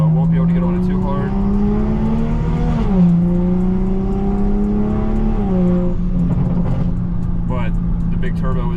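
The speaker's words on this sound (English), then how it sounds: "But the big turbo is on, sounds amazing." Toyota MK5 Supra with B58 engine and big turbo upgrade accelerating, a loud, steady engine drone rising in pitch through gear pulls, with a shift dip near three seconds and again near six, heard close from inside.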